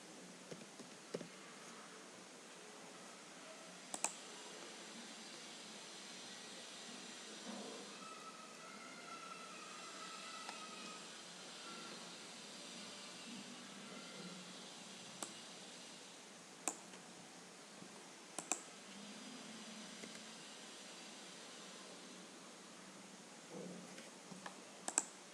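Sparse computer keyboard keystrokes while working Excel shortcuts, a few isolated sharp clicks spread over a quiet background hiss, with occasional small clusters of taps.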